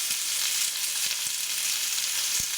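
Chicken pieces searing in a hot pan give a steady, loud sizzle throughout, with a few soft knocks from tongs flipping them and no voices.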